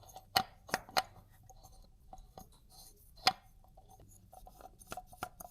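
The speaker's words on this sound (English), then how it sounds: "We're just screwing it back on." Someone turns a motorcycle oil filter cap back on by hand during a Triumph Speed Twin service, making quiet, close scraping and ticking clicks in an irregular cluster against a faint room hum.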